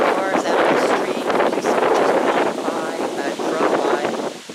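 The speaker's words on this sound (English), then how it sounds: "It's still windy." Gusty wind from Hurricane Matthew buffets the microphone in loud, uneven rushes on a residential street, with a voice partly heard beneath the roar.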